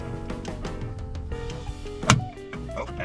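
A plastic trim piece pops loose during a dash camera install, giving one sharp, fairly loud snap against a busy background of steady low noise.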